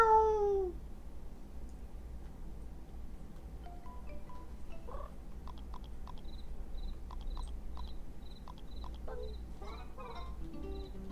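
A person imitates a cat with one short, falling meow right at the start, followed by quiet, steady chirping and ticking like insects from a game soundtrack.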